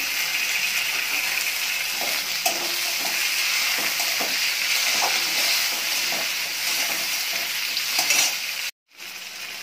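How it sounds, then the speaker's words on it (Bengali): Steady loud sizzling of chopped tomatoes frying in oil with fried onions for a dhaba-style catla fish curry, with occasional stirring scrapes, continuous until a brief dropout near the end. "এবার টমেটো কুচিটা দিয়ে ভালো করে ভেজে নেব"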